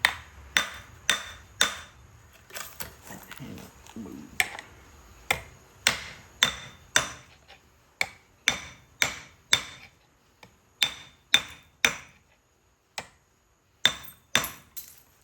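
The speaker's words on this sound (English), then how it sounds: "I like to use a masonry hammer." Sharp metallic strikes of a masonry hammer on stone ring out one after another in an uneven rhythm, close and clear, with brief pauses between clusters of blows.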